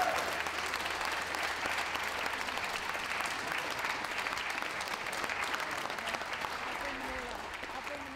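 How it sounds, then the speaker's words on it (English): Sustained audience applause at a championship dog show after the Best in Show awards, a dense, steady wall of clapping from a large crowd that holds throughout and eases slightly at the end. "Give them all a round of applause."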